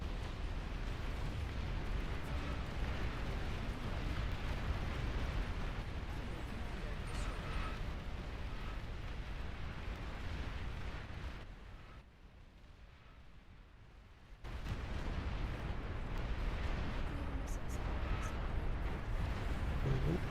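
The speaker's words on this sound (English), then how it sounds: "Nuclear missile launch detected." A nuclear missile launch in the strategy game Beyond All Reason produces a sustained, loud rumbling roar. It drops out for about three seconds midway and then resumes just as heavily.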